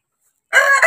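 A Rhode Island Red or native chicken gives a short, loud crowing or clucking call close by after a moment of silence.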